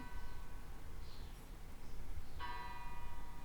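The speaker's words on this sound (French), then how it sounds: "Les cloches de l'église" Distant church bells ring faintly, their tones swelling over a low background hum, with a clearer struck chime near the end.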